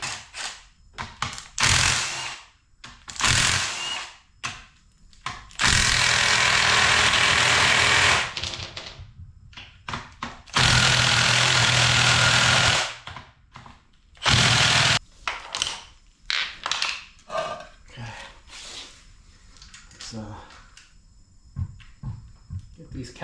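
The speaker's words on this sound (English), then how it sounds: "We're going to use the impact to remove the head bolts." Impact wrench loosening cylinder head bolts during an SRT4 engine teardown, heard as several loud sustained bursts of a few seconds each among shorter clanks and handling noises in a workshop.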